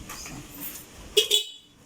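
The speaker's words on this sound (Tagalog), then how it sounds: "may busina" Two short, high-pitched beeps from a Suzuki Mola motorcycle horn, one right after the other, following a stretch of quiet background noise.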